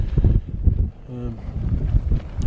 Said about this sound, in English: The wind's hitting my side of this side of the tent